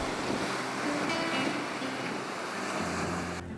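Ocean waves on Puri beach in Odisha roll in as a steady, loud wash of surf mixed with wind buffeting the microphone, continuous throughout with no voices.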